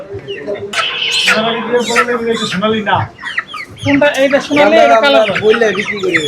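Chickens cluck and squawk close by, with bursts of agitated calls mixed with people talking.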